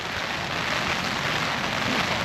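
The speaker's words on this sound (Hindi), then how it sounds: "बारिश हो रही है फुल" Heavy rain pours steadily on a dirt and sand path near a shop on Miyajima Island, a dense, even hiss that stays loud and close without a break.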